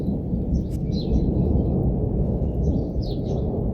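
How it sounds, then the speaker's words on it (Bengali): Low thunder rumbles steadily and fairly loud through a darkening monsoon-season storm in Bangladesh, with a few faint bird calls chirping above it and no talk. "এই যে দেখেন মেঘের গর্জন"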